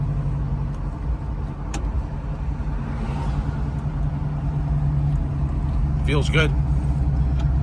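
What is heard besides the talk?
1978 Pontiac Trans Am driving down the road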